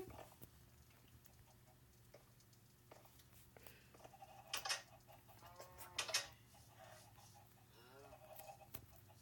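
Clucking chickens from a video game, two short bursts of squawking clucks over a low steady hum, with quieter background sounds.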